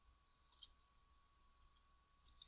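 A computer mouse clicks twice in quick succession near the start, then again at the end, crisp and close against a quiet room with a faint steady hum.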